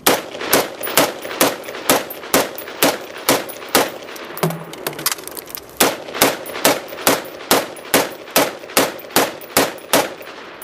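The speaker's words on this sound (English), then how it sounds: "Now we'll shoot the same target array with 2 10-round magazines." Rapid, evenly spaced rifle shots fired at a target array from two 10-round magazines, loud and close, with a short pause near the middle for the reload before the steady string of shots resumes.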